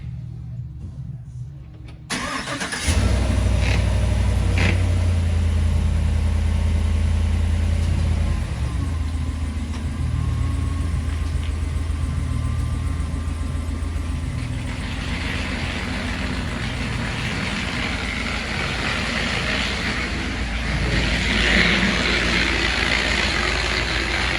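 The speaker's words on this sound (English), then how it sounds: "Tires, pretty noisy." Loud, steady road and tire noise rises inside a moving Cadillac Escalade after a brief quiet start, a continuous low rumbling drone that holds for the whole stretch.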